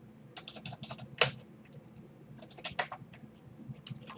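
A command is typed on a computer keyboard in quick, close, irregular bursts of crisp key clicks, with one louder key strike. The keystrokes stand alone at a low level.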